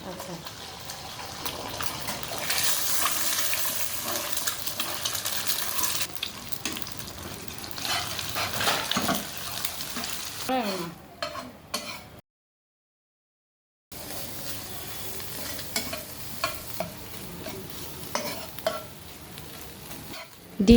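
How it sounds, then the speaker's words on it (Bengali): Two eggs being scrambled in a little hot oil in a pan, with steady sizzling and frequent spatula scraping, close and moderately loud, a brief silent gap partway, then sizzling and stirring resume. "এই তেলটার ভিতরে আমি 2টা ডিম একদম ঝুরি ভাজা করে নেব।"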